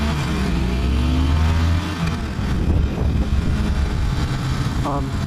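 A Harley Davidson Iron 883 motorcycle riding through neighbourhood streets, a loud steady engine drone with rushing wind, easing briefly before picking up again, with a voice talking over it near the end.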